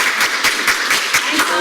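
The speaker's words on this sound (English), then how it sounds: "please join me in giving Vernadette a round of applause." Audience applause for a guest speaker at an academic speaker series, a steady wash of clapping with a few louder bursts, fairly close and filling the whole moment.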